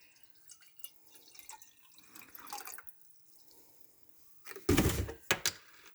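Water runs into a glass for a brief moment after quiet kitchen handling sounds, with small drips and clinks before a short burst of pouring that stops and starts again.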